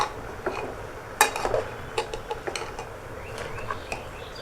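A fish head being stirred and sautéed with vegetables and spices in a pot: scattered metallic clinks and scrapes of a utensil against the pot, irregular and close, over a quiet low sizzle.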